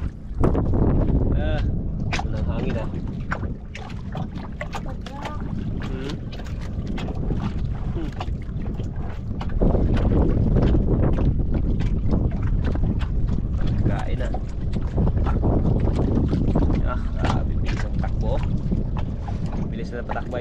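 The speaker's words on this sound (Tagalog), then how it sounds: "Ito na ang hangin ah." Strong squall wind roars across an open boat at sea, a continuous loud rush buffeting the microphone, with people talking intermittently underneath.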